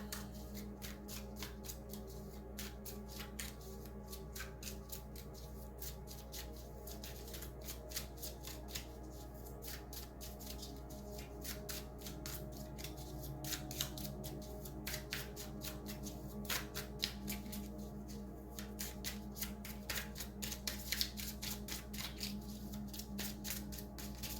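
Tarot cards are shuffled and laid out close by: a steady run of soft, rapid papery flicks and riffles continues throughout, with no talking.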